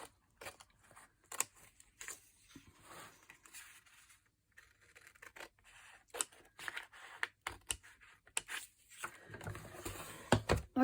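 Paper is cut with scissors while making a pinboard, producing scattered close snips and crisp rustles, quiet at first and then coming faster and louder toward the end.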